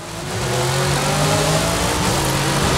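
Engine of a McLaren supercar in the Forza Horizon 5 racing game revving under acceleration, a loud, steady high-pitched drone with rising harmonics that holds throughout without any talk.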